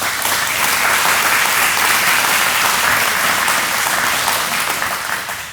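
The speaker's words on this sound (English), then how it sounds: "Let's give them a round of applause." An audience at an agriculture and transportation complex dedication bursts into sustained, dense clapping that holds steady for several seconds before tapering slightly at the end.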